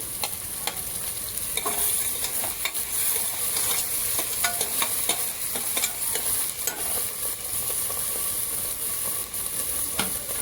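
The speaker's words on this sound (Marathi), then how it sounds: "आता आपण टोमॅटो टाकून घेऊयात" Tomatoes frying for sambar in a pan, a steady dense sizzle with frequent stirring clicks and scrapes throughout, close and fairly loud, no voices.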